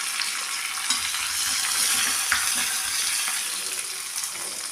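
Green chili, curry leaves and crushed garlic fry in hot oil in a pan. A steady, bright sizzle carries light stirring clicks, close by and with no voices.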